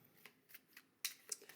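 Daily oracle affirmation cards shuffled by hand close up, a quick series of soft riffling flicks and one sharper snap, quiet and without talk.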